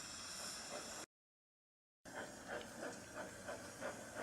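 A toy Thomas steam engine on a wooden railway lets out a continuous hiss of steam, broken by a second of silence, then resuming with soft rhythmic puffing pulses.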